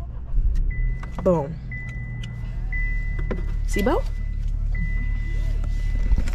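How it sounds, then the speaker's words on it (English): A 2024 Chevy Trax idles with a steady low hum in the cabin before a test drive, with a couple of short power-window or motor whirs and a faint continuous tone, while people talk over it. "now we're in the car and we're about to do the test drive"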